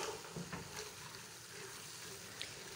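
Black chickpeas fry in a pan with a soft, continuous sizzle and crackle, faint and steady throughout with no talking.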